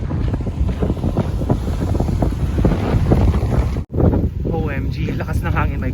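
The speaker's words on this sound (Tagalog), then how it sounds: "sobrang lakas ng hangin" Strong winter storm wind in Saskatchewan, Canada, buffets the microphone outdoors on the way to a bus stop, a loud, steady roar with gusty surges throughout and a brief dropout near the end.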